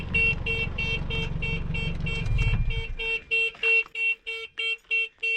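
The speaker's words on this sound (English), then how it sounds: "We just set our own alarm off because I forgot it was armed." A vehicle alarm, accidentally triggered on a 4x4 during a trip through Western Australia, wails in a repeating tone with an engine running underneath, then gives way to loud, evenly spaced siren pulses once the engine cuts out.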